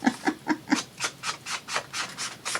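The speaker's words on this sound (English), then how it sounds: "That was a lot of pages to cut." Scissors snipping through lapbook pages in steady, rhythmic strokes, about a dozen close, crisp cuts in quick succession with no talking.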